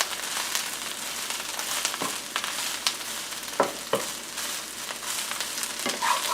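Dandelion greens and bread sautéing in oil in a pan give a steady, close sizzle and crackle, with scraping and tossing clicks scattered throughout and no talk.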